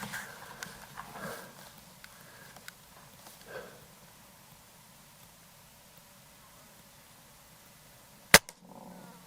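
A single sharp crack from a Gamo Shadow Elite .22 break-barrel air rifle firing, sounding once near the end after a stretch of quiet outdoor ambience with faint distant clatter.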